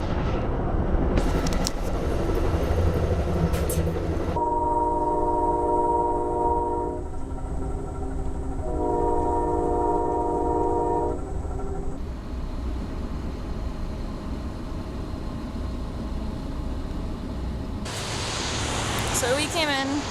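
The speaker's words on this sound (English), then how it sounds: "They're gonna recouple the cars to add some more 2-hour train" Train cars are recoupled at Albany station: loud rail rumble and clanking, with a couple of sustained horn blasts in the middle and some squealing near the end, voices faintly mixed in.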